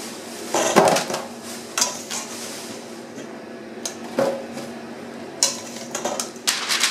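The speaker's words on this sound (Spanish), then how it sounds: "Las voy a poner en una bandeja para horno." Oiled vegetables being set onto an oven baking tray, giving soft scattered clinks and light metallic taps at irregular intervals against a quiet kitchen background, with no one talking.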